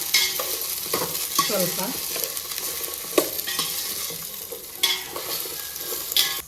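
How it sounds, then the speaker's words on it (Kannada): Cut okra sizzles and crackles in a hot pan while being stirred, with steady frying hiss and occasional sharp scrapes of a spoon; a voice briefly says a single word. "ಈಗ ಇದಕ್ಕೆ ಕಟ್ ಮಾಡ್ಕೊಂಡಿರೋ ಬೆಂಡೆಕಾಯಿ ಹಾಕ್ತಾ ಇದ್ದೀನಿ. ಇವಾಗ ಇದನ್ನು ಫ್ರೈ ಮಾಡ್ಕೊಳ್ಳೋಣ"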